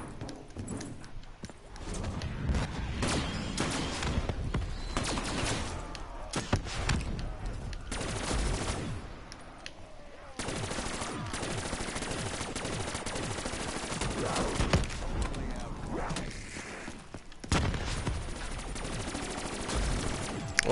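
Dense, relentless gunfire in Black Ops Zombies, rapid shots rattling almost without pause, with heavier rocket launcher blasts mixed into the chaos over twenty seconds of loud combat.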